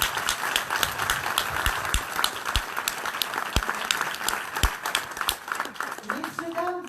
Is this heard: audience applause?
yes